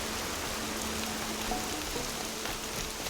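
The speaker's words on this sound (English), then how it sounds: "You hear the rain." Steady, dense rainfall in the open-world game Horizon Zero Dawn, a continuous hiss of drops hitting the ground with a faint tonal hum beneath, no voices.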